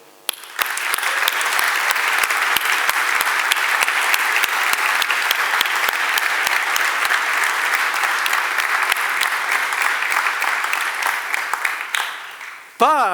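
Sustained audience applause fills a large hall during a conference opening keynote, steady and dense for about twelve seconds before cutting off abruptly, with a few louder claps and whoops poking out of the roar.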